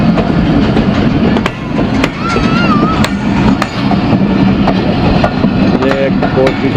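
A passenger train rolling past in Pakistan, loud and close with continuous wheel rumble, rhythmic clicks over rail joints and squealing metal, while someone talks over it.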